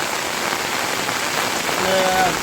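Steady unseasonal rain falls over a village in Botad, a constant close hiss of drops on surfaces that swells slightly near the end, with faint tonal sounds appearing briefly.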